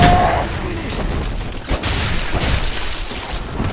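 Game gunfire and heavy booms in Bloodborne, a dense, loud and continuous clatter of shots and crashing impacts close by, with no clear gaps.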